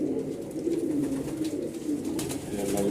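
Malwai Punjabi and Madrasi pigeons coo continuously at close range, a low rolling murmur of several birds overlapping without pause.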